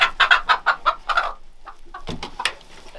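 A broody Icelandic hen, puffed up and squawking, lets out a fast run of loud, close, rhythmic clucks, then breaks off into a few scattered harsher squawks.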